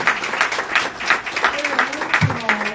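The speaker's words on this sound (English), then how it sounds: "Let's give Mr. Vaughn a big hand clap again." An audience at an event honouring women gives a round of hand clapping, brisk and steady, with a voice briefly sounding through the clapping near the end.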